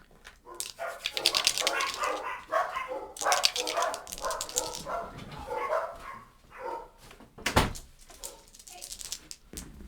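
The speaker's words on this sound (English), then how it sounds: "dogs are barking" Several dogs bark in repeated bursts indoors, fairly close and loud, with yips and clustered volleys scattered across the stretch and a sharp bark near the end.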